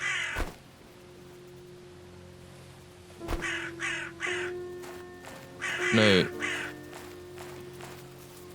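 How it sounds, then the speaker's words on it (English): Crows caw several times overhead in the game Nested Lands, harsh calls in short bursts and one louder nearby squawk, against a low hum, while someone speaks briefly. "there's a lot of crows above me"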